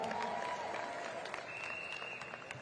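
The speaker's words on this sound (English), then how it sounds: "I ask you please to give him a great round of applause." A crowd applauds the Minister of Youth, Sports and Culture at the closing of the 6th Bahamas Golden Jubilee Games track and field event, 2023: a dense, steady wash of clapping that holds throughout with little change.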